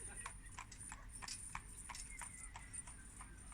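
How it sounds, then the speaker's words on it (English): Hooves of a horse pulling a cart giving rides at a canal-side community event clip-clop in a steady even rhythm, clear but moderately distant, with faint voices in the background. "There was a horse and cart giving rides"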